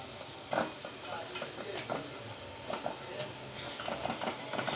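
Meat and potatoes tipped into spiced oil and stirred, a soft continuous sizzle with scattered clinks and scrapes of a spoon against the pot, fairly quiet and close.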